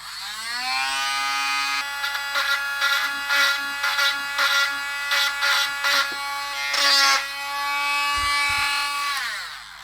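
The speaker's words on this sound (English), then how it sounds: "Let's get the Dremel out again." A Dremel rotary tool grinding down a proud plastic part inside a Bang & Olufsen BeoPlay A1 speaker: a steady high whine close by, pulsing as the bit bites in and out, then winding down.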